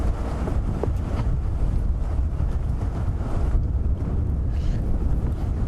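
Wind blows hard and constantly across the microphone outdoors during a sunset thunderstorm safari drive, a dense, low rumbling roar with no voices.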